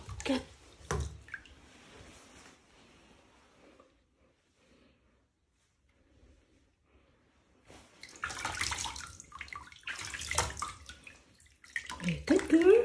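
Water running and splashing in a bathtub as a cat is bathed, with bursts of pouring and sloshing, a quiet stretch in the middle, and a voice talking near the end.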